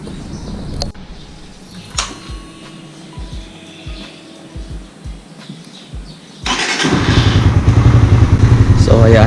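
A Raider R150 FI motorcycle running during its 4000 km maintenance: scattered dull thuds over a quiet idle, then the engine surges into a loud, steady, close rumble for the last few seconds.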